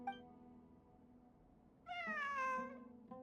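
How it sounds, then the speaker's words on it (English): A cat in the video game Genshin Impact lets out a single drawn-out, wavering meow near the end, fairly clear and close over quiet background music, with no one talking. "It really is a cat."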